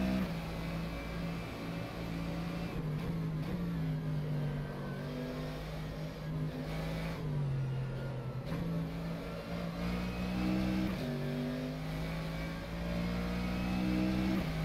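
A Mercedes GT3 race car's engine in rFactor 2 driving a lap of Suzuka, a loud continuous engine drone rising and falling in pitch through gear shifts and revs, with no voices.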